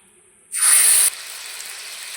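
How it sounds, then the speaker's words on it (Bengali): Spice paste for an egg curry hits hot oil in a pan with a sudden sharp hiss lasting about half a second, then settles into a softer, steady sizzle. "এই তেলে আমি দিয়ে দেব যে মশলাটা করে রাখলাম দিয়ে দিচ্ছি"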